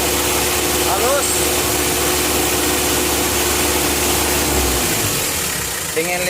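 A tuned Mitsubishi L300 diesel engine with a turbo runs loud and steady, a rough low mechanical rumble that carries through the whole stretch, with brief rising rev sweeps near the start and end.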